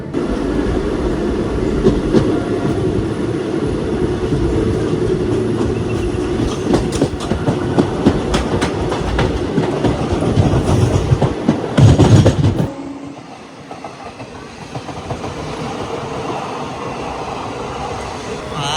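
An express train on an Indian railway near Edappally passes close by with a loud, sustained roar and rhythmic clickety-clack of wheels, then cuts off abruptly as it clears, leaving quieter rumble.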